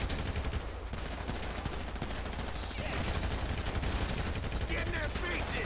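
Rapid gunfire fills a busy Grand Theft Auto V game soundtrack, a dense run of bursts layered over constant background noise from the game.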